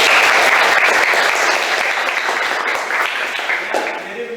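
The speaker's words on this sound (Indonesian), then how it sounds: "Kasih tepuk tangan dulu." A classroom of students claps enthusiastically, dense applause that gradually thins out, with a voice faintly audible underneath as it fades.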